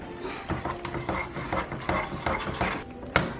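Seasoned food with paprika and garlic salt being stirred in a bowl by hand, soft repeated scraping and clinking strokes in an irregular rhythm, close and quiet with no talking.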